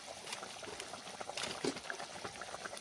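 A Bengali gravy of pointed gourds stuffed with fish simmers at a low boil, giving a faint, steady bubbling hiss with soft pops throughout and no talking.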